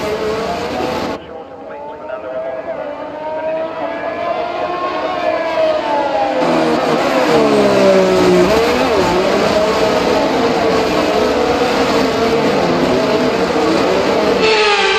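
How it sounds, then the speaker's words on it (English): F1 cars on the formation lap in the racing video game F1 23, heard as a loud, sustained engine drone with shifting revs and rising, sliding pitch, close and continuous after a brief quieter opening. "The formation lap gets underway then"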